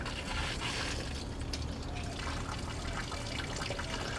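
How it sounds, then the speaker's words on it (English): Water trickles steadily from the spout of a dock-side water filter system, a continuous splashing flow that stays close and even for the whole stretch. "I adjust this to get water coming out."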